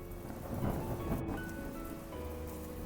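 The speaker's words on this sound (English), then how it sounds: "the first crack of thunder erupts in my ears" Steady rain pours with a low rolling rumble of thunder underneath, a constant wash of noise at moderate loudness with no voices, in a video game.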